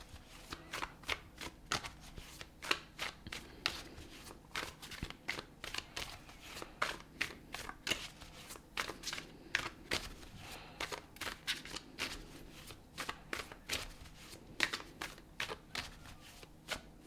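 Tarot cards being shuffled by hand, a steady run of crisp riffling bursts repeating roughly every half second, close and moderately quiet with no talking.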